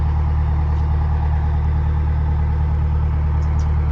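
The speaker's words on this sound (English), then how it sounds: "the only reason the engine's running is to charge the batteries" A narrowboat engine idles on an iced-over canal to charge the batteries, a steady, close, low-pitched diesel thrum with a regular pulsing beat, running alone without speech.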